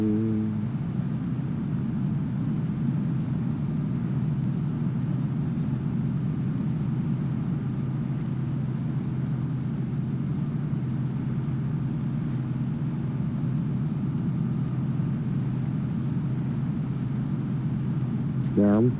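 A truck engine in the SnowRunner game, a crew-cab mod, chugs in high gear as a steady, loud, low droning rumble that holds unbroken throughout with no pauses.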